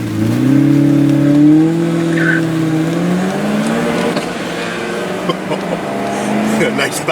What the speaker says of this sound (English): Nice backfire.